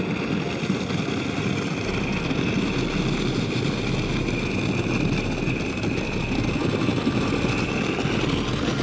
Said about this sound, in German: wir fahren jetzt gerade, sieht man jetzt gerade, wie der, wie der durchs Eis durchgeht mit dem Aluboot